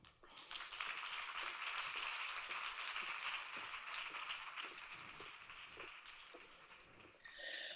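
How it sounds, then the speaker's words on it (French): At a business conference event, an audience gives a sustained round of applause for a speaker as she comes up, a steady, fairly soft wash of clapping that swells again at the end. "Merci de faire un tonnerre d'applaudissements pour Marilène."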